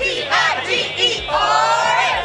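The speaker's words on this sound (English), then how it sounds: "We got a lot of fans out here right now, cheering us on." LSU and Clemson football fans yelling and whooping together as a crowd ahead of a national championship game, loud, close bursts of cheering.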